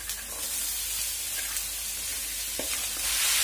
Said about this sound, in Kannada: ಇವಾಗ ನಾನು ಕೋಸು ಮತ್ತೆ ಕಡಲೆಬೇಳೆ ಏನು ಸೋಸಿಟ್ಕೊಂಡಿದ್ದೀನಿ ಅದನ್ನ ಈಗ ಹಾಕೋತಾ ಇದ್ದೀನಿ.